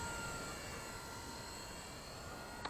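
A WLtoys V950 entry-level 3D RC helicopter flies in idle-up mode, its steady high-pitched motor and rotor whine holding constant and fairly faint throughout, with no voices.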